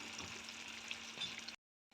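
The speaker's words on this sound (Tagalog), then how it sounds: "Ayan, kumukulo na siya guys." A steady bubbling simmer of chicken mechado sauce in a covered pot close by, soft popping and hiss throughout, cutting to silence briefly before resuming.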